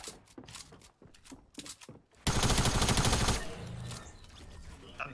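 Rapid gunfire from the video game Fortnite, with several sharp shots followed by a loud, sustained burst of automatic fire that dominates before trailing off. The game sound is dense and close.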